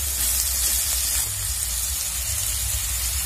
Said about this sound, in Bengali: তিন থেকে চার মিনিটের জন্য আলুগুলো ব্রাউন কালার করে ভেজে নেব।